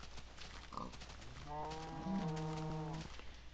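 A cow in the Minecraft video game gives a single drawn-out moo, low and tonal, over a quiet game background.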